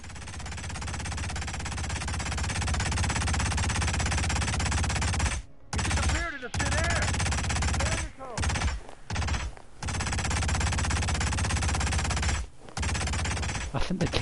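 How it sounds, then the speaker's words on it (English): Sustained gunfire rattles in the Hitman video game in Paris, with loud continuous bursts broken by a few short gaps, while someone talks over it. "I can hear someone shooting."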